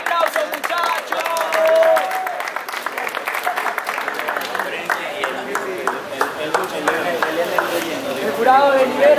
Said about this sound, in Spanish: ¡Un gran aplauso, muchachos!